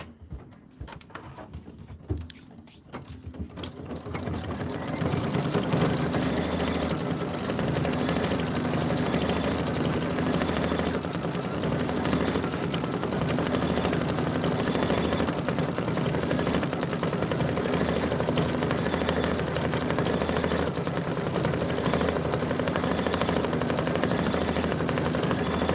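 An embroidery machine stitches a decorative stitch with a small heart in the hoop for holiday rope bowls, a steady loud mechanical whir after a few seconds of startup, running continuously without talk.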